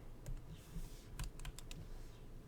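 Several quick key presses on a computer keyboard, a short cluster of crisp clicks close by against a quiet background, with no talking.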